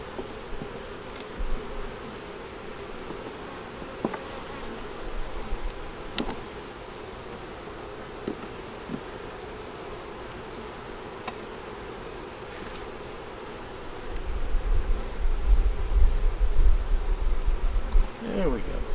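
Steady honeybee buzzing hums throughout at an open hive, a dense swarm drone close by, with occasional soft knocks and a louder rumble near the end.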